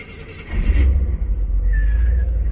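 A 1968 Chevrolet Corvette Convertible's engine starts and settles into a steady, close, loud low rumble, with no voices over it.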